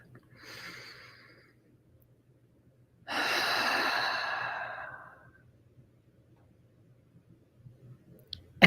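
A slow, deep breath during a guided grounding meditation: a soft inhale near the start, then a longer, fuller exhale in the middle, close and quiet with no talking.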